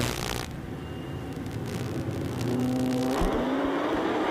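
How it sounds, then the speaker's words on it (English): A drag race car launches off the starting line at a Carolinas street drag event. A loud, close engine roars steadily, then its pitch climbs sharply in the last second as it accelerates away. "And Barber off the line first"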